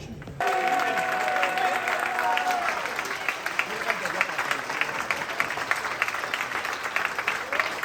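Sustained crowd applause for the priests at an Ayyappa irumudi puja, a dense, even wash of many hands clapping close and loud, starting abruptly after a brief voice and holding steady to the end.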